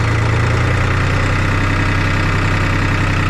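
A 2006 tractor engine idles loud and close, a steady low, throbbing rumble that holds unchanged throughout with no voices.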